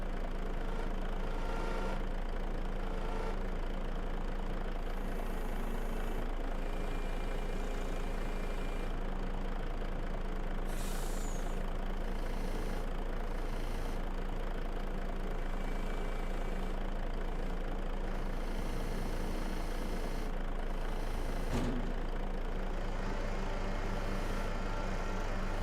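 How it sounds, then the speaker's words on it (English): A truck in Farming Simulator 25 runs with a steady, droning engine hum throughout, a constant mid-low rumble with a few faint clicks and knocks, no voices. "Physics of the truck moving's quite good there"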